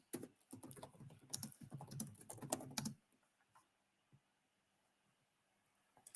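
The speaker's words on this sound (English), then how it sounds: "Let me just type that in." Fast, close typing on a computer keyboard in a steady burst of clicks for about three seconds, then near silence with a few faint taps.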